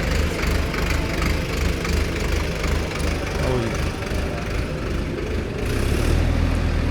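A heavy Indofarm tractor engine idles with a steady low chugging rumble, loud and close, continuing throughout with some wind-like noise over it.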